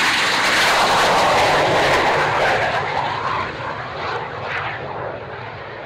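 A military jet makes a low dirty pass with landing gear down at the Waddington Airshow, a loud roaring engine rush that swells close overhead and then slowly fades as it moves away.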